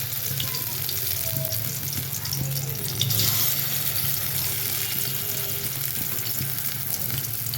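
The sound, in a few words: shrimp fritters frying in a wok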